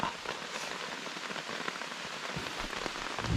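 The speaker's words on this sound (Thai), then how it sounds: "ฝน ตก" Steady rain patters densely on a nearby surface, a continuous close hiss with scattered sharper drops.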